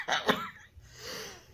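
A short burst of coughing near the start, two quick harsh bursts, followed by quieter breathy noise.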